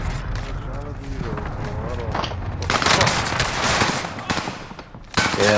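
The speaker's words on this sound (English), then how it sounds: "Four people shot each other at the same time." Video game gunfire in a multiplayer shooter match, bursts of shots and rapid automatic fire ringing out loud and continuous, with players talking excitedly over it and a sharp blast near the end.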